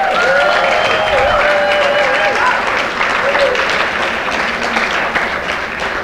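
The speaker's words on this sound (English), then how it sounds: "So why don't you give them a round of applause?" A conference audience applauds in a dense, loud, sustained wash of clapping that holds steady throughout, with a few voices rising over it.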